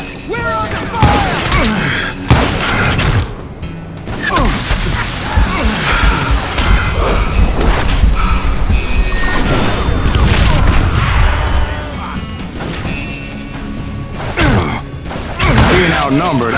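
Gunfire in a Wild West shootout in the video game Call of Juarez Gunslinger: loud, dense bursts of shots and impacts with whooshes run through most of the stretch, mixed with busy game effects and occasional voices.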